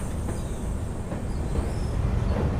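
Steady rumble of a train crossing a bridge on the Sairang–Bairabi line in Mizoram, a continuous low roar of wheels and carriages heard from on board, with no talk.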